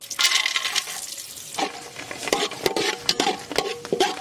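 Cashews fry in hot ghee while a metal spoon stirs them, bright clinks and scrapes ringing over a light sizzle, close and lively, without any talking.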